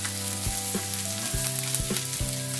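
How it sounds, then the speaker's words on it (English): A sea bass fillet fries flesh side down in melted butter on a steel plancha with a loud, continuous close-up sizzle, cut by a few sharp metallic clicks and scrapes, and no one speaking. "move the fish so it's flesh side down onto your melted butter"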